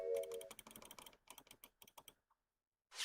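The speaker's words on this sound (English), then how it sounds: "but I'm clicking like crazy, like crazy." Rapid clicking while playing the Ace Attorney game, a quick run of sharp, close clicks in bursts that thin out and stop, with a brief noise at the end.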